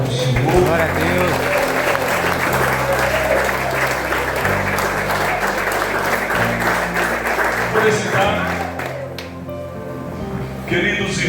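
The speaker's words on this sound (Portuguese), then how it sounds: "Pode aplaudir a palavra do Senhor." A church congregation applauds, a dense, continuous clapping mixed with sustained musical tones and some voices, holding steady and loud before tapering off near the end.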